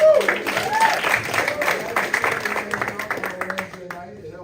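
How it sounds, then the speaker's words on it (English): Audience applause at a comedy club: a loud burst of clapping from the crowd that starts at full strength and slowly thins out and fades. "Give me a round of applause."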